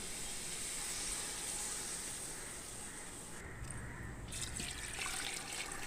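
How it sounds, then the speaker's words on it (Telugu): Coconut milk poured into a pot of country-style chicken pulao makes a steady liquid hiss and splash that shifts in tone partway through, close by, with no talking. "ఒక కప్పు కొబ్బరి పాలు వేసుకుంటున్నాను"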